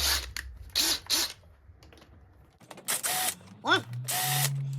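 A power drill fitted with a 3/8 socket adapter whirs in short bursts during a Honda CB400F Super Sport motorcycle restoration, with ratcheting clicks and whining spin-ups between pauses, close by.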